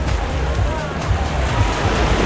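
Ocean surf washes in along a surf beach at Sayulita, Mexico, a steady broadband roar with rolling swells and some wind buffeting the microphone, continuous and fairly loud.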